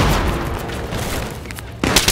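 Grenade explosions and gunfire in a Battlefield 3 battle, dense booming roar with bursts of fire, then a sharp loud blast near the end.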